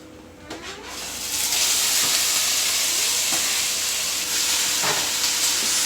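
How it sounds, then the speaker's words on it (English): Grated onions dropped into hot olive oil in a pot, breaking into a loud, steady sizzle that swells within the first second and keeps hissing, with faint stirring scrapes. "get them all in the oil so they can start frying off"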